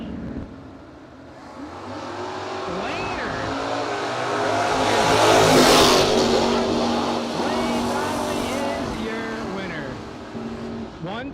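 Drag race cars, including a Camaro, launch at a no-box drag racing event, their engines roaring loudly with rising and falling revs that swell to a peak midway and then ease off.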